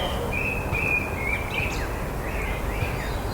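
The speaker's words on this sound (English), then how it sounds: "Lots of birds out." Birds chirp outdoors in Vake Park, Tbilisi, a few thin, high tweets and trills repeating at moderate distance over a soft steady background hum.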